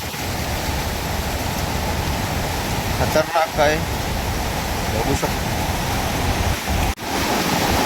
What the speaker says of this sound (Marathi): बघा बाजूने कसं मस्त पाणी वाहत आहे धबधब्याचं